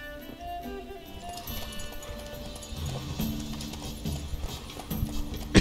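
Horse hooves clip-clopping in The Witcher 3, a steady rhythmic trot under game music and ambience, with a louder thump at the very end.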